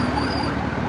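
An ambulance siren sounds from nearby traffic in Cabuyao, Laguna, heard from inside a Zafira; its continuous wailing tone runs steadily and fairly loud through the whole short moment.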